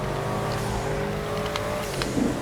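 A Pfister Astron Custom SUV in GTA V Online runs with a steady, loud engine drone and a faint high turbo tone on top, with a few brief chirps near the end and no talk.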